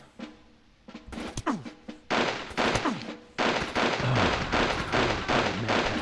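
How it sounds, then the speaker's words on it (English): Explosions and gunfire from the Army Men video game rattle in bursts, with a grenade blast among sharp, close cracks and booming hits that crowd the latter half over a low background. "Oh, a grenade."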